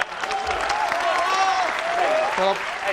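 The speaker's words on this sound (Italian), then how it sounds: "Applauso" Audience applause during a live comedy or magic stage show, steady clapping filling the room while voices talk over it.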